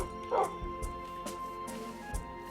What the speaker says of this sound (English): Don't forget to pet the dogs.